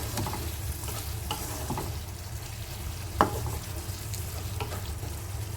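Spiced masala and potatoes sautéing in a pan for a cabbage and fish-head curry, a steady low sizzle broken by scraping stirs and one sharper clack of the spoon, close and alone.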